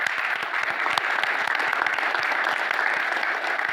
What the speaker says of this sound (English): Round of applause for John Schreiber and NJPAC.